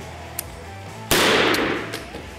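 Single loud rifle shot from a 16-inch barrel St. Victor rifle, a sharp close blast with a short echoing decay, preceded by faint quiet clicks.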